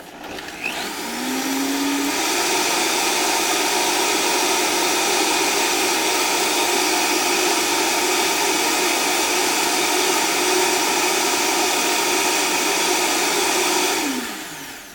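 A blender blending unsoaked nuts runs loudly and steadily for about fifteen seconds, a harsh whirring roar with gritty rattling texture, starting and stopping abruptly.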